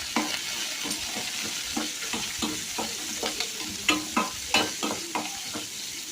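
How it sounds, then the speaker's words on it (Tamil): Spices, garlic and curry leaves sizzle steadily in hot oil, with a utensil stirring and scraping in short irregular strokes close by. "இதெல்லாம் போட்டு நல்லா தாளிச்சுக்கலாம்"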